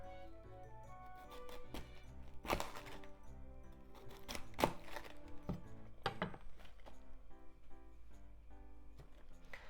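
A knife chops cabbage into bite-sized pieces on a cutting board, a run of quiet, uneven taps and sharper knocks, close and fairly faint, with no talking.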